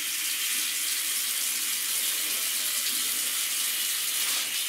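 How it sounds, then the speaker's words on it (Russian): Water runs steadily out of a bathtub as it drains, a continuous hissing rush that stays loud and even throughout with no voices over it. "Сейчас пусть вода спускается."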